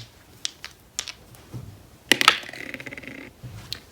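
Dice are thrown and rattle to a stop on a hard surface: a few light clicks, then a close, sharp clatter of several bounces and rolls that settles within a second, with no talk over it.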